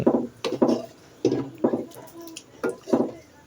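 A spoon scrapes and stirs freshly poured cooked food around a pot in a steady rhythm of about seven close, wet strokes, with soft knocks against the pot.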